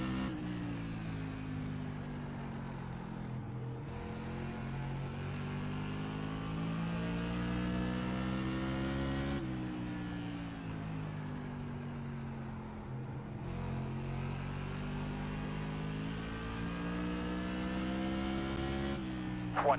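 Race car engines in an iRacing modified race at Stafford drone and rev loudly and continuously, pitch climbing and dropping through gear changes over the whole stretch.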